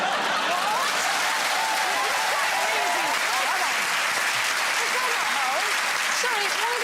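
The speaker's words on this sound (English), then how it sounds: "why is he getting a clap?" Studio audience on a comedy quiz show bursts into sustained, dense applause that fills the room for several seconds, with scattered chuckles mixed in.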